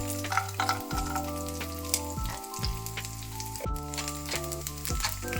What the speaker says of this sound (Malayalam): അണ്ടിപ്പരിപ്പ് ഇട്ട് കൊടുക്കാം